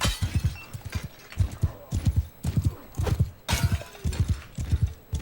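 Horse hooves clip-clop at a steady walking rhythm in the Mount & Blade 2: Bannerlord video game, loud and close, with an occasional whinny and a bump against a wall, no talk over it.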